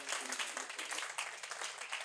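A church congregation applauds together during a service, a dense, steady wash of clapping that holds for about two seconds, with faint voices mixed in.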